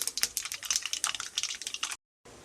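Mustard seeds crackling in hot oil for a Kerala-style lemon pickle, a dense run of sharp close pops and spits that stops abruptly, then resumes faintly.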